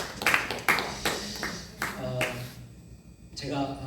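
Congregation at a Korean church praise service claps in a short burst of sharp, separate claps that die away after about two and a half seconds, leaving near quiet with a faint voice.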